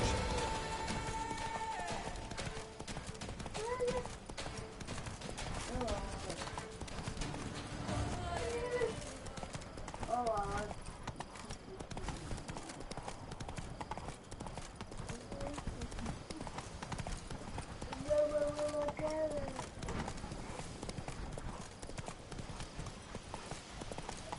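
Roach the horse galloping in The Witcher 3: Blood and Wine, steady rapid clip-clop of hooves throughout, with game music and a voice speaking over it.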